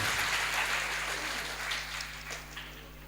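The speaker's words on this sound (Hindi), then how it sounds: "हमारे प्रधान जी की सब लोग जोर से ताली बजाएं" An audience at a Hindu religious discourse gathering claps for the village head, giving a steady wash of fairly faint applause that continues throughout and slowly tapers.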